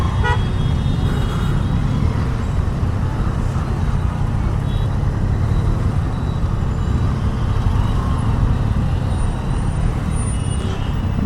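Dense Hyderabad road traffic heard from a Daytona 660 ride: a constant loud roar of engines and wind, with occasional car horns toots poking through near the end, no talking.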